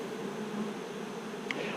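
Honeybees buzz around an opened beehive, a soft continuous drone close by, steady over the brief moment.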